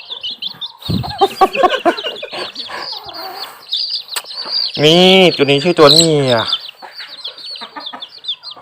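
Baby chicks and a hen peep and cluck close by in a backyard coop, with bright chirps and a burst of louder calls partway through. Someone talks over them at the start.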